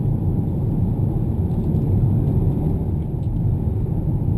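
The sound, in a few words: 2015 Hyundai Sonata 2-litre turbo engine heard from cabin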